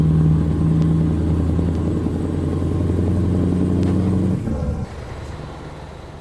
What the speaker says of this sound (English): 560 horsepower is the V8 here in the Scania